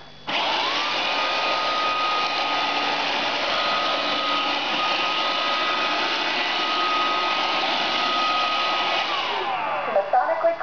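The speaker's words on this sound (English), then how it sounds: "While Roomba is cleaning, it uses an array of advanced sensors and complex patterns and movements." iRobot Roomba 550 robot vacuum cleaning a floor, a steady whirring motor whine with high tonal hum that starts abruptly, holds evenly close by, then winds down near the end with a few small knocks.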